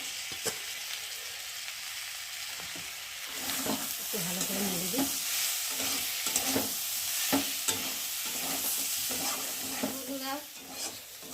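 Prawns and vegetables frying together with spices in a pan, a continuous sizzle broken by regular stirring scrapes of a spoon against the pan, close and moderately loud, no talking.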